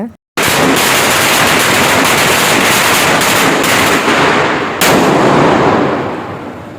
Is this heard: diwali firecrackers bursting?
yes